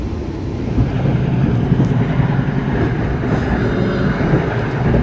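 Taksaka executive train K47 passing straight through Bekasi station at high speed at night, a steady loud roar of wheels and rushing air with continuous rumble throughout.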